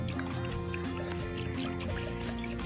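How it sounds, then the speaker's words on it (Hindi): Coconut water trickling and dripping steadily out of a coconut for a few seconds, a close, continuous pouring sound with small splashes. "देखिए इसमें से पानी निकालते हैं।"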